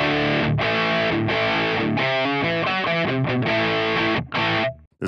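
Heavily distorted electric guitar riffs through a NUX Mighty Plug Pro running a Soldano amp model with a noise gate and impulse response, loud chugging chords and choppy bursts that stop abruptly near the end.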